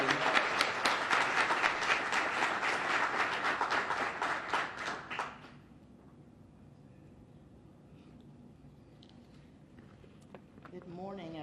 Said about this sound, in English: Please give all 5 of our wonderful ladies a round of applause.